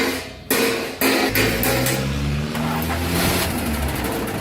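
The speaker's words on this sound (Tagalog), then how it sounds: "testingin na ng ating electrician kung bakit sumasama sa ikot ng starter ko" A DC2 car engine with a starter fault, where the starter keeps spinning along with the engine, cranks and catches in two quick bursts, then runs on with a loud, steady, close-up drone and a few sharp knocks.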